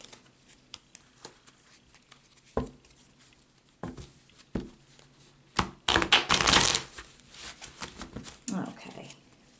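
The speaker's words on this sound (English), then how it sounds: "one more shuffle" Tarot cards handled and shuffled at close range, scattered taps and soft slaps building to a brief dense riffle, with a person talking quietly in between.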